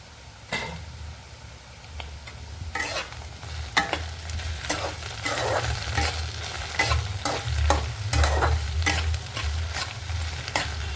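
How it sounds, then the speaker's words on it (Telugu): Okra pieces fry on low heat in a pan, a soft steady sizzle broken by repeated sharp scrapes and clinks as a spoon stirs them every second or so, with no talking. "ముక్కలు ఫ్రై అవ్వాలి. సిమ్లో పెట్టి చేసుకోవాలండి."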